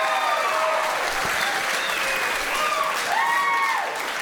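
Comedy-special crowd breaks into sustained applause, a dense continuous wash of clapping with scattered cheers and whoops over it, steady and fairly loud throughout.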